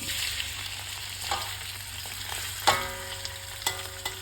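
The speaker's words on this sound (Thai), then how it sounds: "เดี๋ยวเอากุ้ง ลงไปทอดก่อน" Fresh shrimp fry in oil for pad thai, a steady nearby sizzle punctuated by a few sharp metallic clinks and scrapes from a utensil, with no one speaking.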